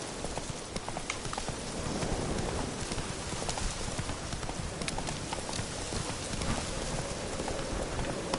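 Hooves of Roach, a horse in The Witcher video game, clip-clop in a steady trotting rhythm that runs continuously and sits close, with faint background ambience.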